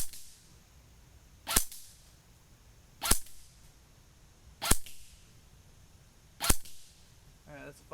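Four sharp shots from an APS ASR 114 airsoft rifle ring out about 1.5 seconds apart, each a crisp snap against a quiet outdoor background, with a brief murmur of voice near the end.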